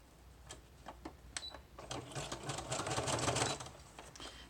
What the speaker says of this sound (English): So I'm going to sew along this edge and sew this down.